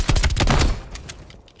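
Pistol gunfire in the Call of Duty Cold War video game, a fast cluster of sharp, loud shots close up that quickly gives way to fainter scattered pops and fading echoes.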